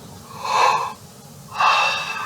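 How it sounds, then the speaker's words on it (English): Two slow, deep breaths drawn by a trombone player preparing to play during a lesson, each a close, airy rush of air with a short pause between. "Deep breathing."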